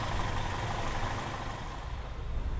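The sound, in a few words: modified Toyota Kijang engine idling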